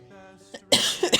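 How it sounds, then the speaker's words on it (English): A person coughs: a soft throat sound first, then two or three sharp, close, loud coughs in quick succession. "Cough, cough."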